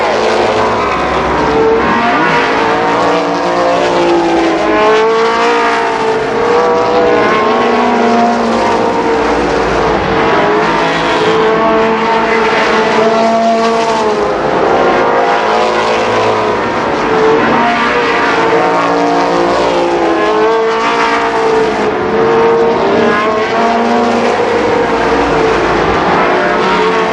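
Several stock cars roar around a short oval at Columbus Motor Speedway during a 1991 main event, one driven hard, engines droning loud and continuous for the whole stretch with pitch rising and falling as they pass.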